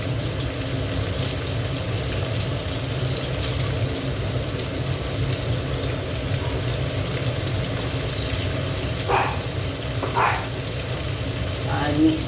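Tomato paste goes into a hot pan for a Bengali curry and sizzles with a loud, steady frying hiss throughout. A few brief clinks sound near the end.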